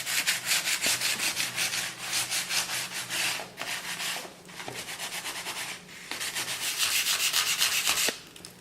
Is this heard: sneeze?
no